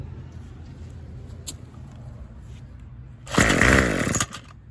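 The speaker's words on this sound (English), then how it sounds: "show you how to start a Bolens BL160 string trimmer" A Bolens BL160 string trimmer's small engine catches and roars for about a second after a quieter stretch, then drops back down.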